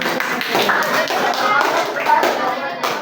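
A classroom group claps together during a lesson, brisk overlapping hand claps mixed with voices and chatter in the room.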